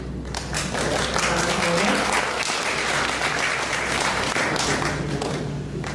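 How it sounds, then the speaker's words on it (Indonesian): Sustained applause from an audience at an entrepreneurship workshop for university students, dense and steady throughout with faint voices mixed underneath. "Ya, tepuk tangan lagi kembali."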